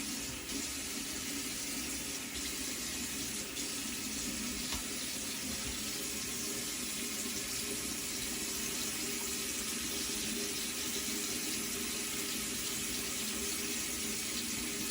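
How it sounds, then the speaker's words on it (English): A bathroom tap runs steadily for the whole stretch while a face is rinsed during a traditional wet shave, a constant broadband rush of water close by with no talk. "Let me rinse my face."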